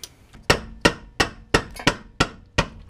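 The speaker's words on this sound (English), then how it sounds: "couple hits with the rubber mallet and hopefully she breaks free" A rubber mallet strikes a car's subframe bolts on a Subaru, loosening them during a Perrin subframe lockdown kit install. Seven sharp, evenly spaced whacks land close by, each with a short ringing decay, and no one speaks.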